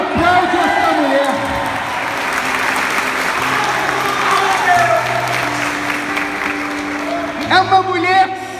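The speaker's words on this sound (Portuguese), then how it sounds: "dá um glória e aplaude essa mulher" A church congregation applauds during a sermon, dense steady clapping filling the room, with some talk and murmuring under it and a voice rising near the end.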